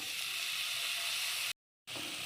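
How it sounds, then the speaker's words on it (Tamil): Three finely chopped tomatoes hit a hot pan of spiced pav bhaji masala, giving a steady loud sizzle and frying hiss that cuts out briefly near the end, then resumes. "இப்போ பொடியாக நறுக்கின 3 தக்காளி ஆட் பண்ணிக்கிறேன்."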